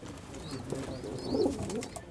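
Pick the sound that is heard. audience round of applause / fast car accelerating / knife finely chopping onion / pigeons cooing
pigeons cooing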